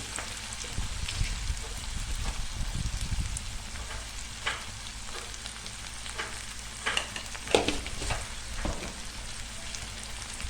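Peanuts, lentils and wheat flour stir-fried in a pan, a soft steady sizzle with scraping stirring strokes and occasional sharper clinks of the spoon against the pan, heard close and alone.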